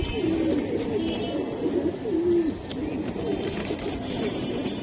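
Giribaz pigeons, a pair with aluminium-coloured plumage, coo in a steady stream of low, rolling calls, close by and fairly loud over a constant background hum.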